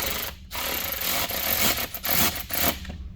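A Phillips-head bit on a power driver starts a screw into a Rokblokz mud flap on a 2021 Ford F-150, giving close, loud grinding whirs in short bursts broken by brief pauses.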